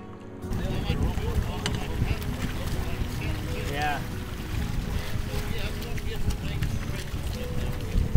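Small outboard auxiliary motor pushing a 14-foot gaff-rigged Penobscot 14 sailboat on calm water, a steady low drone running throughout with wind noise on the microphone and people talking over it.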